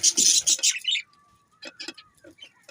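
Budgie chicks at a breeding setup give bright, high chirps in a quick cluster, followed by a few fainter, scattered tweets close by, with no talking.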